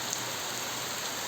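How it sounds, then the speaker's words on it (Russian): Heavy rain pouring in Donetsk, a dense, even hiss of falling drops with no breaks, close and steady for the whole moment. "Дожди такие льют."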